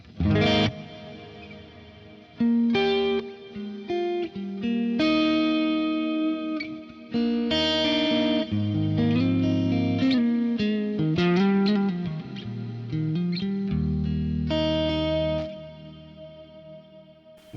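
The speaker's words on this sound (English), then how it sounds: "consider using the Plex delay, Plex Verb. It's an incredible sound." A guitar through the Plex Verb delay-reverb effect on a Fractal FM3 plays melodic phrases and chords drenched in lush delay and reverb, notes echoing and swelling into a wide, shimmering wash throughout.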